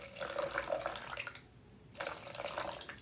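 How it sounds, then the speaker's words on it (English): Distilled water poured into a container and measured out for mixing lye water to make soap; a steady trickling stream runs, stops briefly for about half a second, then resumes, fairly close and quiet. "So I'm going to go ahead and get 128 grams of water."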